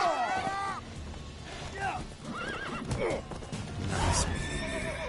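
Horses in The Witcher 3: Wild Hunt whinny repeatedly amid clip-clopping hooves, shrill neighs rising over a busy background with voices talking.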